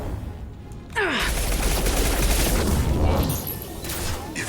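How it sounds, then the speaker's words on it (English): Heavy gunfire in the video game Mass Effect 2, a dense, loud burst of automatic shots and impacts that swells after a second and stays sustained, with a short sweeping effect near the start. "Taking heavy fire!"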